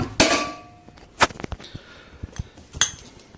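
An aluminium lid set back onto a stainless steel milking bucket and clamped down, giving a sharp metallic clang followed by several lighter clinks and taps, close up.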